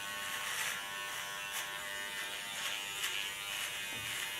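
An electric hair clipper buzzes steadily while cutting short hair, with a close, continuous hum that swells slightly in brief pulses as it moves through the hair.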